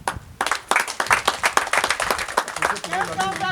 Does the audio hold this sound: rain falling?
no